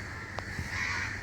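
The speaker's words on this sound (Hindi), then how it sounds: "कितना कौवा बोल रहा है, भूख लग रही है और कुछ नहीं।" Hungry crows caw near a rooftop, giving a couple of harsh, nasal calls over a steady outdoor background, fairly close and clear.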